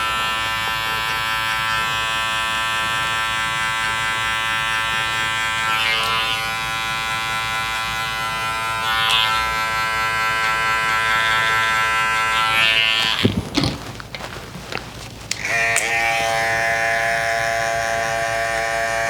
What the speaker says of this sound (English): Sometimes I just like to go and switch to a clipper,